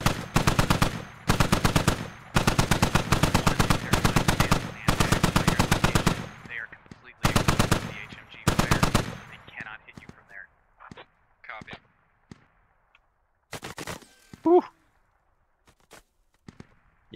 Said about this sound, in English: Alright, he's finally returning fire.